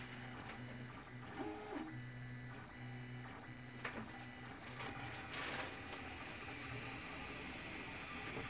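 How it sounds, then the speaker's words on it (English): A steady whirring plastic cooling fan hum over the mechanical buzz and whine of a running 3D printer, close and continuous, with occasional clicks and motor tones. "now the noise starts because the plastic cooling fan just kicked on"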